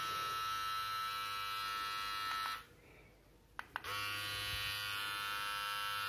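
A Mi beard trimmer hums steadily, cuts off briefly with a couple of clicks, then starts buzzing again at the same even pitch.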